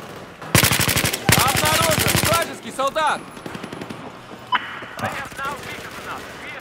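Bursts of rapid machine gun fire in Battlefield 4, two long loud volleys early on followed by shorter scattered shots, with someone talking and exclaiming between them.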